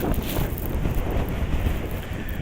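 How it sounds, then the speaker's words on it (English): Strong wind gusts buffet the microphone on the Coney Island boardwalk in New York City in winter, a loud, rumbling roar that rises and falls without a pause and carries no voices. "it is windy out here"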